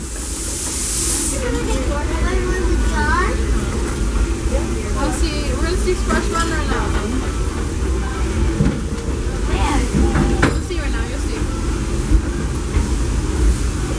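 Ride aboard the Disneyland Railroad train with steady rolling rumble and hissing steam, while someone talks over the noise throughout.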